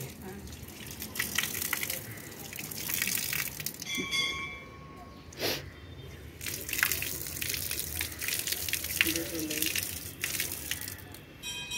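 Water runs and splashes from a tap as feet are washed at an old temple in Vidarbha, a steady wet trickle with brief gushes, set against outdoor ambience and some talk.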